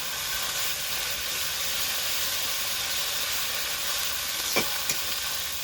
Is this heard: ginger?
yes